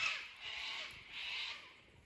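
Harsh, raspy screeches from sulphur-crested cockatoos, two drawn-out calls in a row, moderately distant and fairly faint, in rural Australia.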